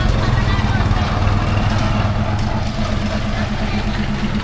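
Bus engine on the road from Sylhet to Sada Pathor in Bangladesh, a loud continuous low rumble and drone that holds steady throughout, with talk over it.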